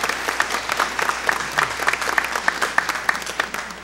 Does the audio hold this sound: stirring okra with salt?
no